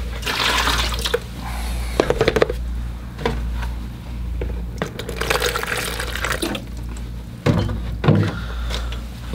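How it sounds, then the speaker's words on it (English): Fresh water runs from a tap for watercolor painting, a loud, close, continuous splashing flow with clatter and knocks from the sink and containers throughout. "I'll get some fresh water."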